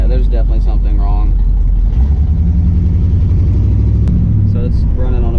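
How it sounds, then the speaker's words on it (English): A car engine with a bad lifter idles rough on seven cylinders, a loud, close, uneven low rumble with a lumpy pulse, while someone talks briefly over it at the start. "So it's running on about 7 cylinders right now."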